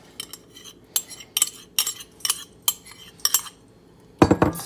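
A utensil stirring melted butter into Oreo crumbs in a bowl, giving a run of sharp clinks and scrapes in uneven bursts, close up, ending in a louder cluster of knocks.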